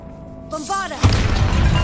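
A Bombarda blast spell in Hogwarts Legacy, cast inside a tomb, erupts as one loud, close boom after a brief rising magical whoosh, with a rumbling tail.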